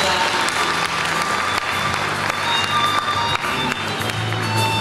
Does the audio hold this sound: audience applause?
yes